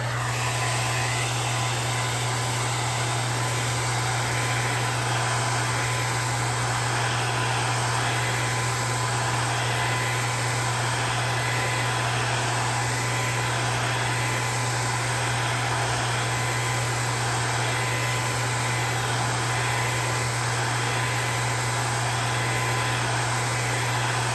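A hairdryer blowing on wet paint on paper, a steady whirring blast with a constant motor hum, unbroken and fairly loud for the whole stretch with no talking.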